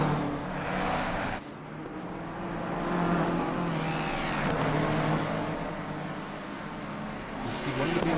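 Race cars roar around the Zolder circuit in a sim racing game, engines droning loud and continuous with shifting pitch as a midfield pack battles, under an ongoing commentary voice.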